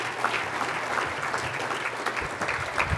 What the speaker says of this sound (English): give them one more round of applause for all the work they do in this community.